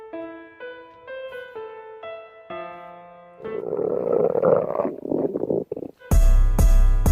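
A cartoonish stomach growl during a classroom test: tonal electronic notes lead into a long, loud rumbling gurgle, then a sudden harsh burst at the end.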